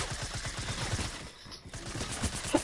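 Fortnite gunfire in a squads match sounds as a rapid, steady stream of shots at moderate loudness, briefly dropping off before the firing picks up again.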